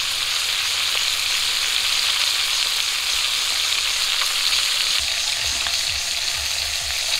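River bata fish fry in hot oil with a loud, continuous, close-up sizzle, a dense bubbling hiss that stays steady throughout with no voices.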